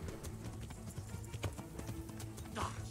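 Horse hooves clip-clopping in the medieval video game Kingdom Come: Deliverance, a steady rhythmic run of hoof knocks over a busy, low-level background of game ambience and music.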